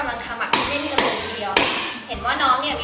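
Three sharp metallic hammer strikes land about half a second apart on a punch tool, each ringing briefly, with some light handling noise between.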